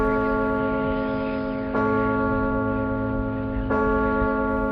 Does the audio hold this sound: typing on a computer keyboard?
no